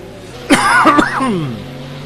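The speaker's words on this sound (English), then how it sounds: "Apologise for the coughing there" A few sharp coughs burst out close to the microphone during Project Cars racing commentary at Imola, followed by a short throaty sound against a low background hum.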